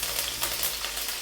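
Garlic, dried red chillies and curry leaves hit hot oil in a pan, a soft, quiet, continuous crackling sizzle over a short moment with no voices.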